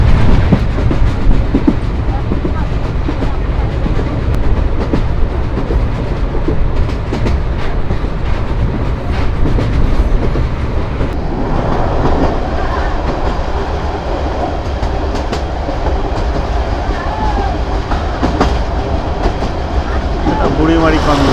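Burimari commuter train rolls along rails on a rough rural route, a continuous rumble with rhythmic clickety-clack of wheels on joints, close and loud for the whole stretch.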